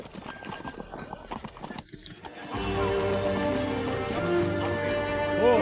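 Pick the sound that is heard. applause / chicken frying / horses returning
horses returning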